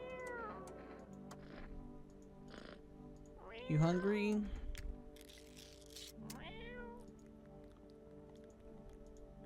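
A cat in the video game I Am Not Human meows several times, a loud drawn-out call in the middle and a shorter one after, with a person talking between them.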